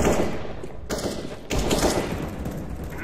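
Rapid gunfire fills Counter-Strike: Global Offensive on the Dust 2 map: dense, continuous bursts of loud shots with a short break near the middle, then the firing resumes just as intensely.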